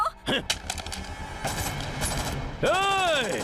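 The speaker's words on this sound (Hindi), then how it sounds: "घड़ी के कांटे की तरह गोल गोल घूमकर गोलियां चला रहा है" Gunfire in a Hindi-dubbed action movie, sharp loud bursts mixed with dramatic score and effects, ending in a swooping whistling sound.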